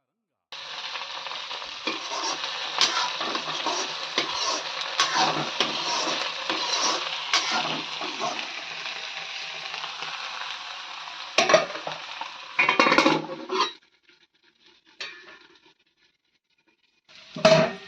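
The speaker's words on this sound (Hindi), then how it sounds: "अब ये आलू डाली भिंडी थोड़ा भून गई थी, अब दोनों संग्रह करके भूंजी।" Okra and potatoes frying together in a pan, a steady close sizzle broken by scraping stirs, then the sizzle cuts out near the end, leaving brief bursts of stirring and quiet gaps.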